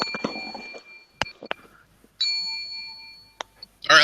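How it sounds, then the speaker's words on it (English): A bell struck for a wrestling-style ten-bell salute, a few sharp separate dings with sustained ringing tones between them and no speech. "Let's do a 10 bell salute for Adam"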